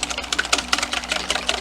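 Eggs and milk are beaten briskly in a bowl, giving a rapid, even clatter of quick strokes that repeats steadily throughout.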